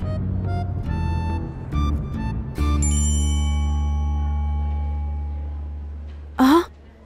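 A phone message notification tone rings out in a dramatic scene, a short bright chime near the end following sustained tonal music and voices earlier.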